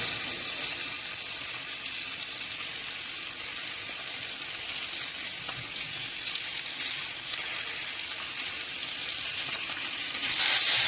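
Chicken legs sizzle steadily in hot oil as they fry until golden brown, a dense, continuous crackling hiss that swells slightly near the end, with no voices.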